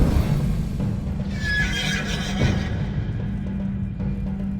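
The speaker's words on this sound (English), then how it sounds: "A war horse was no ordinary horse." A war horse neighs in a long, shrill whinny that rises and falls over a dense, low background rumble of battle ambience, with no speech.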